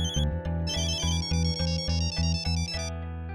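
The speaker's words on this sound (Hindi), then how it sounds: "किसका फोन है? किसका फोन है? जल्दी देखो।" A mobile phone ringtone plays loudly and close, a bright repeating melodic pattern of electronic tones pulsing in a steady rhythm for several seconds, with no voices.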